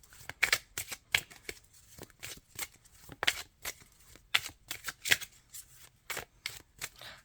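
Tarot cards shuffled by hand, close and quiet, a series of quick riffling bursts and soft slaps in an uneven rhythm, with no talking.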